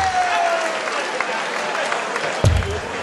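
A darts crowd at the 2012 World Darts Championship, Scott Waites against Andy Boulton, claps and cheers for a double 18 checkout in a steady, loud wash of applause, with a sharp thump near the end.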